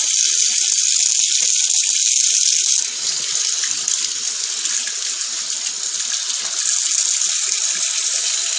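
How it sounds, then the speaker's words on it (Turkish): Water gushing hard from a tap into a bath, a loud continuous hissing rush filling the whole clip close by, with faint rattling underneath. "Ay ay kapat şu çeşmeyi. Ay çok su geliyor."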